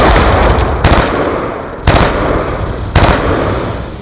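A rocket launcher fires in a video game, with loud, harsh blasts repeating in quick succession and a rushing roar after each one, with no talking.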